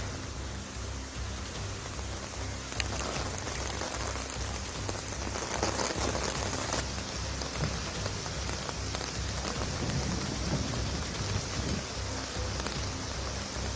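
Heavy monsoon rain pours steadily at Churchgate railway area in Mumbai, a dense, constant roar of drops on surfaces, loud and unbroken throughout with no voices.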